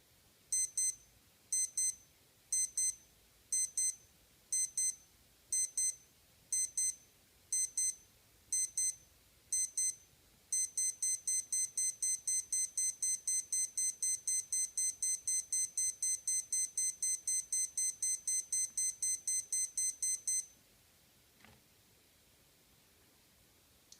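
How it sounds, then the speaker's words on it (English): A Timex Ironman T5K412 watch alarm beeps in short grouped bursts at a steady pace, then switches to a rapid continuous run of beeps before stopping, shrill and close in an otherwise quiet room. "let's go ahead and get ready for the first alarm."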